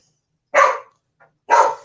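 A dog barks twice, about a second apart, each bark close and loud against silence, with a faint short yip between them.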